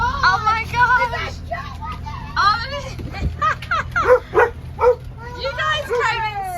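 Dog on a sailboat yipping, barking and whimpering in short bursts, mixed with excited people's voices talking and exclaiming close by.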